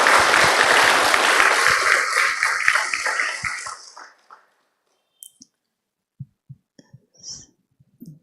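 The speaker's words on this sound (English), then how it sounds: "Louder clap for Mr. Nandish" Audience applause in a meeting hall, loud dense clapping for about four seconds that quickly fades, followed by a few isolated taps and small noises.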